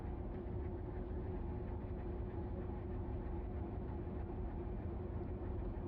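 Freight train with new wagons and log loads rolling slowly, under 10 miles an hour, on rails while braking, a steady continuous rumble and rail noise close by throughout, with no break.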